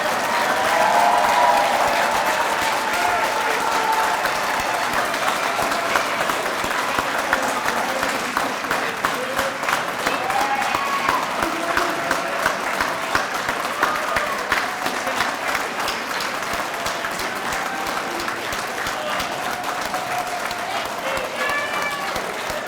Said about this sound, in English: Just clap one more time for all these firefighters